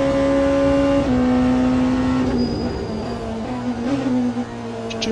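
Race car engine in a sim racing game played on a SIMAGIC Alpha Mini wheel base, a steady loud drone that holds its pitch, drops slightly after a second and then wavers, alone without talk.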